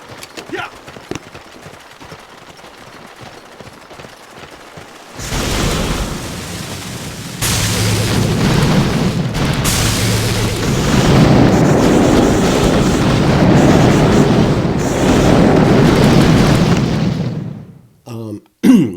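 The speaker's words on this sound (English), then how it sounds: "I was using the the grenade over and over again to just take out as many of those mines as possible" Repeated grenade blasts clear mines in the Boom Beach warships mode, a dense, sustained stretch of booming explosions and game effects. Faint ticking sounds come first, then a sudden loud, continuous barrage that cuts off near the end.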